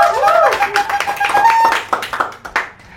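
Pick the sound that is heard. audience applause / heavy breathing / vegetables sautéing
audience applause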